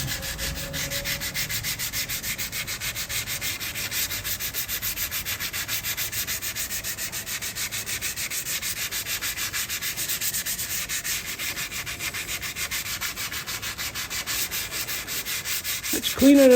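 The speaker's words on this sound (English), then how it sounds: "wet and dry sandpaper." Steady, close rubbing of 220-grit wet and dry sandpaper sanding in a workshop, a continuous rhythmic scratching that runs throughout with no talk.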